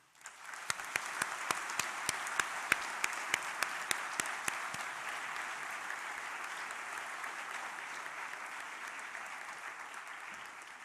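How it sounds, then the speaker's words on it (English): A seated audience at a Waterloo university graduation ceremony breaks into a long round of applause, with sharp individual claps at first that blend into a dense, sustained roar of clapping, fairly distant and even. "Please join me in a round of applause for each other to recognize our graduate and guests"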